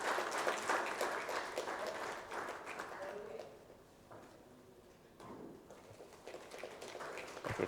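Applause from the audience at an inaugural session, clapping that is fairly loud at first, fades to near quiet midway, then picks up again with scattered claps and faint talk.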